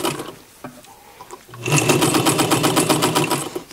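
A sewing machine stitches a seam on a lined sheath dress with a fast, even whirr. It starts after a brief pause and runs loud and steady to the end.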